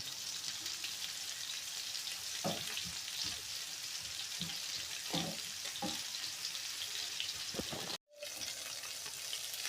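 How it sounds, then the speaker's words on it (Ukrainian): Mushrooms with onions added fry in a pan with a constant close hiss, broken by occasional stirring knocks and spatula scrapes and a brief cut of silence near the end. "Шампіньйони в мене вже все, посмажились. Я додаю до них цибульку."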